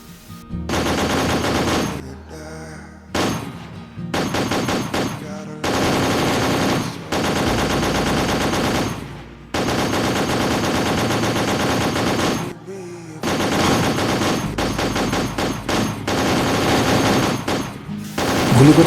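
A loud automatic-gun sound effect, meant as a CCTV camera gun system firing at a cat at a cattle farm, fires in long rapid bursts separated by short pauses for nearly twenty seconds.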